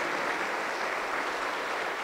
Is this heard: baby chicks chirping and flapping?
no